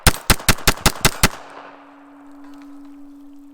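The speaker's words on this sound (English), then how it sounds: "try some rapid fire" Seven loud, evenly spaced shots from a Bersa Thunder 380 pistol ring out in a fast string, followed by a fading echo and a steady low hum.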